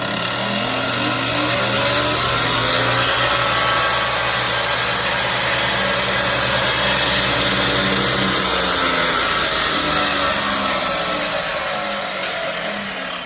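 A homemade bench grinder driven by a variable-speed treadmill motor runs steadily in a dusty workshop, giving a loud, continuous motor hum with a fixed whine throughout and no talking.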